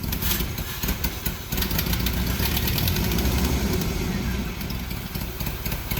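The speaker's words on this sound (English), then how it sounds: "we're misfiring off of idle so bad. Not that it's idling well." A Jeep engine idles roughly and misfires, running steadily throughout, sputtering and stumbling irregularly, close and fairly loud with no voices.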